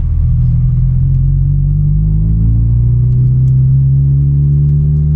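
Steady low car engine rumble from inside a moving vehicle at night in light rain, with a smooth rising drone as it accelerates; no talking.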